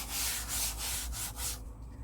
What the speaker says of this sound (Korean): 지우개로 누르니까 재미난 모양이 만들어지네요